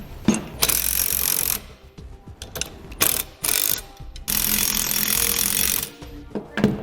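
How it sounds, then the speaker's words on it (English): Ratchet wrench clicking in bursts as two bracket bolts are tightened during installation of Firestone Ride-Rite air helper springs, loud and close, with several pauses between runs of rapid pawl clicks. "we're going to tighten up these two and torque them"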